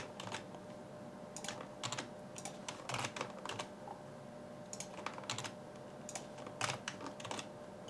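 Someone types on a computer keyboard while cutting and pasting cells in an Excel spreadsheet: quick irregular clusters of crisp key clicks with short pauses between bursts, close and fairly quiet, with no voices.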